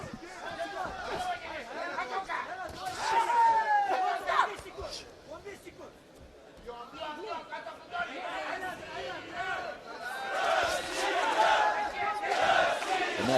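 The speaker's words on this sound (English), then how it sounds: "And there's the chant from the crowd." Crowd chanting at a men's 54 kg world championship boxing bout, rhythmic massed voices swelling and dipping in waves over several seconds, with a commentator talking over the arena noise.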